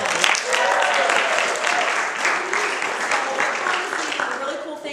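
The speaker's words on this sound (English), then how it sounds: "Let's give her a round of applause." An audience applauds a speaker at an evening leadership talk, steady dense clapping sustained for about five seconds at full strength before tapering slightly at the end.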